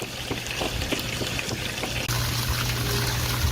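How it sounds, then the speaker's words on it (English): A garden hose sprays water onto the roof of a used tiny house on wheels, a steady splashing trickle and patter with sharp drips that grows fuller and louder partway through. "a hose putting onto the roof some water"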